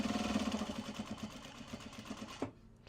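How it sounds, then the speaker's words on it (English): A sewing machine stitches the side seam of a Japanese fabric bag, a close, steady mechanical chatter that stops abruptly near the end. "I'm just gonna sew this"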